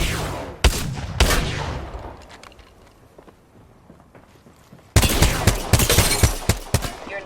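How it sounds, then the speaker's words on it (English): Gunfire in a battle royale video game comes as sharp bursts of shots and single cracks, with quieter footsteps and clatter in a lull before a dense, loud volley of rapid fire. "Getting shot at."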